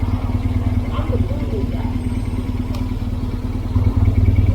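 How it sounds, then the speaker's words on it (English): A motorcycle engine idles nearby in the Black Hills of South Dakota, a steady low pulsing throb with clattery mechanical texture that rises slightly near the end, and someone speaks briefly over it. "I don't even know how to turn this bike off."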